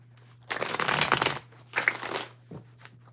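Tarot cards being shuffled in two or three quick, close riffling bursts, crisp papery rustling over a low steady hum.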